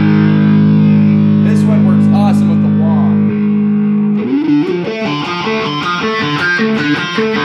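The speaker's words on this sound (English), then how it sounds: "I just wanted it to be this like very loud but not offensive distortion." Loud bass guitar through a distortion pedal, first a sustained droning chord, then a driving riff of repeated punchy notes with a gritty, fuzzy tone.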